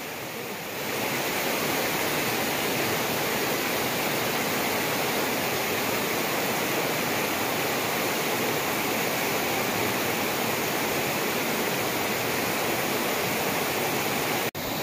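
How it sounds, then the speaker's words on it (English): Laurel Falls, a waterfall along the Appalachian Trail, pours in a steady, loud roar of rushing water close by, a dense unbroken wash with no voices. "more raging water coming down from Laurel Falls"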